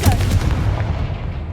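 A Confringo fire spell blasts in Hogwarts Legacy, a single loud, booming explosion with a deep rumble that decays over about a second and a half.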